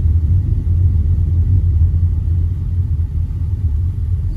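Deep, steady engine rumble from inside a VW Polo GT 1.0 TSI automatic accelerating hard, loud and constant without a clear rise in pitch, no voices.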